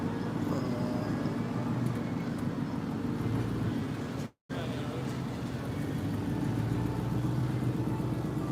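A truck pulls away from a road intersection, its engine and tyre rumble a steady, fairly close wash of traffic noise that cuts out briefly midway before resuming at the same level.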